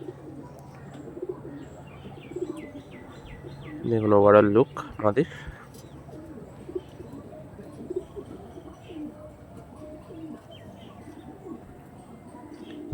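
Flying-breed pigeons give one brief, close, tonal burst of cooing partway through, while someone talks quietly before and after it.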